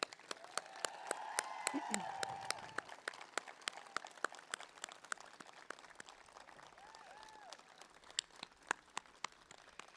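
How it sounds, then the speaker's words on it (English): A school graduation audience applauds loosely, with scattered claps popping over a quiet background and faint voices and cheers drifting in near the start. "Let's give them another round of applause."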